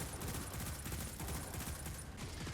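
Rapid bursts of pulse rifle fire in the Destiny 2 video game, dense repeated shots packed close together and loud throughout, with no talking.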